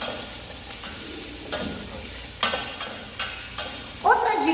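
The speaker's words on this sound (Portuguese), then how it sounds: "Então eu dou uma suada nos meus legumes aqui." Mirepoix of carrot, leek and onion sweats in a pan with a gentle sizzle under several sharp stirring scrapes, and a brief squeak comes at the end.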